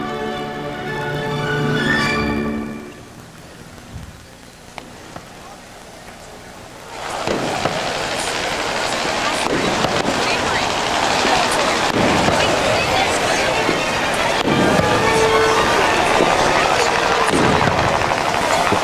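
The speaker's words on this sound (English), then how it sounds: "It's the Navy with their 21-gun salutes for the vessels as they go down the parade." Navy 21-gun salutes boom for tall ships parading through New York Harbor, heard as repeated distant blasts under constant wind and engine rumble, with people talking throughout.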